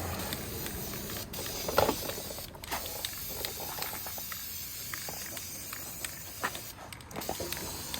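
A spray can lays a quick coat of paint on a car subframe part, giving a close, steady hiss broken by a few short bursts, with clicks and handling noises in between.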